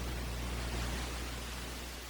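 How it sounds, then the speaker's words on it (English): A white noise downlifter from the Big White Noise Pack (drop noise number 4), a broad, steady hiss that slowly fades in level over about two seconds, heard alone without talk. "Another layer of noise is this white noise downlifter from Big White Noise Pack, drop noise number 4"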